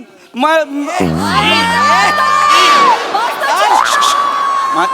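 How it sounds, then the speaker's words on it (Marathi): A comedy show audience cheers loudly with whoops and shouted voices in a sustained, close roar, with no distinct clapping standing out. "टाळ्या, जोरदार टाळ्या."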